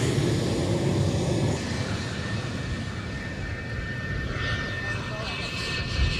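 An F-4 Phantom twin-engine jet with J79 engines rumbles loudly during the Anatolian Eagle air exercise in Konya, a broad, continuous roar under a person talking.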